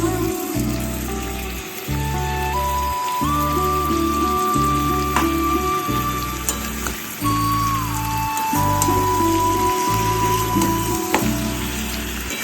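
Mutton fries with tomato paste in a pan, giving a steady, close sizzle and crackle that runs under louder background music.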